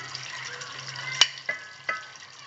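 Tripe curry with dried fenugreek leaves fries quietly in a pot, a soft sizzle broken by three sharp stirring clinks of a spoon against the pan.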